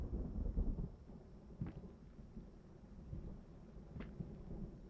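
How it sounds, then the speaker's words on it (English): Distant thunder in a stormy setting within the horror game Layers of Fear, low rumbling that swells at the start and returns with a couple of sharper cracks under a steady, muffled roar. "Is it the thunderstorm I hear?"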